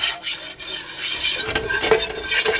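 Food being stirred in a pan for BBQ nachos, with black pepper added: continuous scraping and clinking of a utensil against the pan, close and steady, with a faint sizzle underneath.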